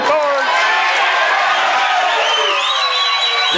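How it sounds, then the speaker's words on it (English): A live crowd at a televised 1984 billiards match erupts in a loud, sustained burst of cheering, whoops and shouts that carries steadily through the whole moment. "You'll hear the crowd react if this ball goes down."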